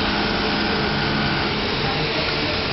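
A Robotech AJ 9100 auto jig sewing machine for flaps and waistband extensions runs with a loud, steady mechanical whir and hum that holds unbroken throughout.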